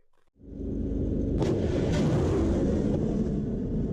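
A THAAD anti-missile launcher fires, giving a sudden loud blast after a brief quiet start and then a sustained, heavy rumbling roar with crackling bursts that persists to the end.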